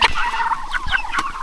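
A farm rooster clucks in a few short, close calls, with other fowl and barnyard noise around it on a Canadian farm at feeding time.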